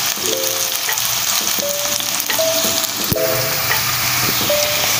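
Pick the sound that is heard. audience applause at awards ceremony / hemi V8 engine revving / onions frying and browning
onions frying and browning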